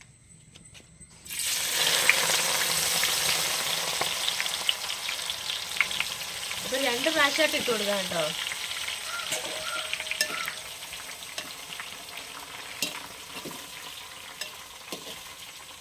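Steady loud sizzling of jackfruit pieces frying in hot coconut oil, with a brief rhythmic stirring rattle midway and a short spoken remark near the end.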